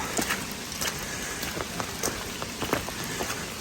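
Rain falls steadily on a wet forest trail at Ricketts Glen State Park in Pennsylvania, a close, even patter dotted with sharper individual drops, with no voices.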